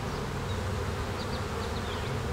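Honeybees on hive frames during an inspection of a colony with a laying worker, a dense, steady buzz of many bees close up, continuous and unbroken with no talk.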